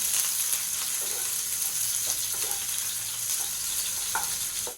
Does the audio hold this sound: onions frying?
yes